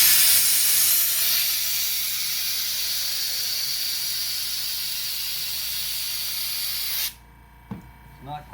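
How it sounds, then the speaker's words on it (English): Compressed air hisses loudly and steadily from an air hose into an inner pontoon float for a Blue Sky 360 pontoon boat, a continuous broadband rush lasting about seven seconds before cutting off, followed by a few faint handling knocks. "And I'm gonna get my air hose."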